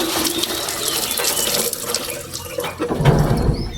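Water streams steadily from a pump pipe into a container at a drying well, a strong continuous rushing splash that deepens near the end as the vessel fills, with no voices.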